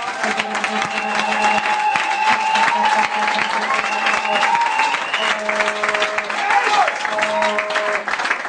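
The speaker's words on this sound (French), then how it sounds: "peut-on donner des acclamations pour notre roi?" A church congregation applauds and cheers in a large room, sustained clapping over held musical tones, with voices mixed in throughout.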